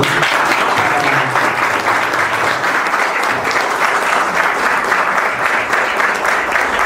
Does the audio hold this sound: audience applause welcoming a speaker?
yes